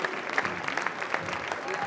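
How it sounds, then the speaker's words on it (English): A high school girls' basketball crowd claps in a gym during a Class 2A regional semifinal, with steady moderate applause and a few sharper claps under a voice. "get a nice round of applause from the Falcon crowd making the trip over here to Denver tonight"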